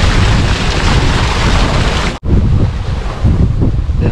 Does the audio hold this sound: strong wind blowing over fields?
yes